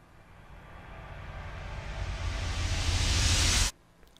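A reversed, reverb-drenched cinematic hit made in Cubase swells as a wash of noisy hiss, rising steadily in loudness and brightness for over three seconds before cutting off abruptly, followed by faint quiet, with no voices.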